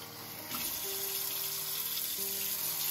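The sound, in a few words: water added to sprouting microgreens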